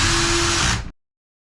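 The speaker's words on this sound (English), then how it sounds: "what we're doing is putting in screws all along here and then all along the ridge cap" A cordless power drill drives small self-tapping screws into a plastic Keter Darwin garden shed at the ridge cap, giving one loud, close whirring burst that winds down and stops after under a second.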